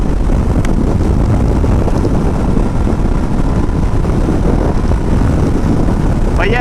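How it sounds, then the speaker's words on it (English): Loud, constant wind roar and buffeting fills a motorcycle helmet while riding a new CFMoto Ibex 800T adventure bike that is still being broken in, masking almost everything else throughout. "the wind difference is quite noticeable. I'm pretty sure that you can hear this through this helmet"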